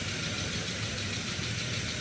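A car engine idling with a misfire and high hydrocarbon emissions, heard as a loud, close, continuous engine drone with a rough, uneven texture and no speech.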